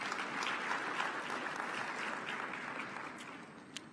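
Summit audience applauding steadily from a distance, a soft continuous patter of many hands that thins slightly toward the end.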